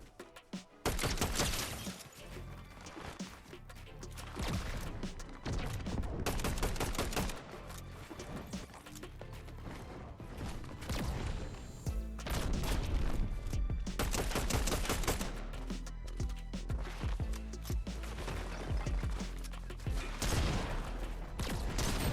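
Rapid gunfire in a Fortnite solo cash cup match, dense bursts and single loud shots repeating through the whole stretch, sharp and close with brief gaps between volleys.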